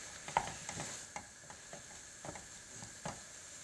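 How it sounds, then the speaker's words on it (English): Mincemeat browning and being stirred in a pan, giving a faint, steady sizzle broken by soft, irregular scraping taps from the stirring. "So this is the first stage of cooking any mincemeat,"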